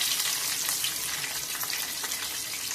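Green chillies fry in hot tempering oil, giving a steady, close, hissing sizzle throughout with no talking.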